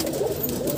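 Pigeons on a rooftop, one of them a wild pigeon, give a brief, close cooing call over a steady outdoor background.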